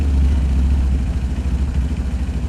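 A motorcycle engine with a Juken 5 carburetor idles after an auto-mapping setup, holding a steady, loud, low rumble with a slight uneven pulse throughout and no talk.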